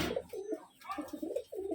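Pigeons in a cage coo in repeated rolling phrases, close and clear, several short bursts with brief gaps between them.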